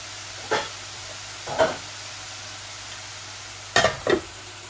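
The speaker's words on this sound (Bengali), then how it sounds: "এর জন্য আমি একটা শুকনা মরিচ ফোড়নে দিয়েছি।" Dried red chili tempering in hot oil for minced meat bhuna, giving four short sizzling bursts, the last two close together, over a steady low background hiss with no talk.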